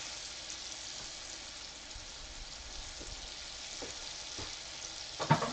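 Diced tomatoes from a 14.5-ounce can tipped into a pan of sizzling onion and bell pepper, giving a steady, moderate frying hiss with soft splatter ticks and a brief louder clatter near the end, with no talking.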